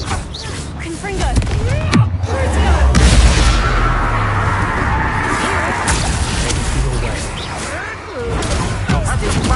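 Confringo fire spells blast repeatedly in Hogwarts Legacy combat, with booming impacts and whooshes layered over creature cries and battle noise, loud and chaotic throughout.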